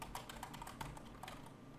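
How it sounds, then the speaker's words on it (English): Rapid keystrokes on a computer keyboard while code is entered for a SOLIDWORKS API user form, a steady run of close, light clicks with no talking. "So I'm going to manually type this in"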